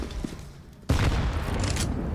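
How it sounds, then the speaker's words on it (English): A grenade blast goes off in Counter-Strike on the Overpass map during a DreamHack Masters match, one sudden booming explosion after a quieter stretch, followed by a sustained rumbling roar. "Boomich running into more grenades."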